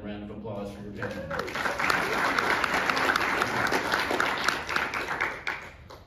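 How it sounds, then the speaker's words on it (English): Audience applause at a school choice panel, a dense burst of clapping that swells quickly after a brief voice and holds steady for several seconds before tapering off, fairly loud and close. "how about a round of applause for your parents?"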